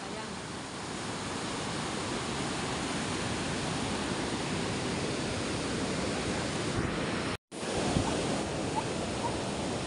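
Typhoon Kristine winds batter the coast at Bucana, Nasugbu, with heavy surf, a loud, unbroken roar of gusts and crashing sea that drops out for an instant near the end before surging back.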